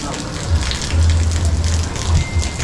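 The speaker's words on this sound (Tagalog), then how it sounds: "Tamang tama at bumuhos yung ulan." Steady rain pours down in a broad, hissing wash, with a low rumbling undertone swelling and fading beneath it.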